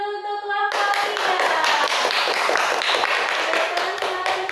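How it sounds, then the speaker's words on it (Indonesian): A classroom group claps for student presenters of group 3, dense overlapping handclaps starting after a brief tonal sound and continuing loud and steady to the end. "kasih tepuk tangan dulu untuk kelompok 3"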